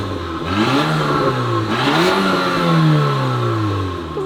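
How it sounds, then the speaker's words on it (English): A Porsche Macan SUV with its sports exhaust off starts up close by, the engine catching and revving in a couple of rising and falling swells before settling into a steady hum. "So we'll have a listen first with the sports exhaust off and then sports exhaust on."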